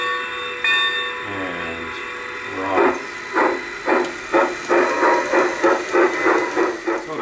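A G scale model steam locomotive's sound system rings its bell and toots its whistle, then settles into rhythmic chuffing that quickens steadily, close and moderately loud.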